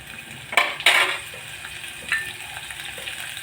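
Cowpeas sizzle and fry in a pan as they roast, with a couple of sharp spatula scrapes and stirring bursts over a steady, close frying hiss.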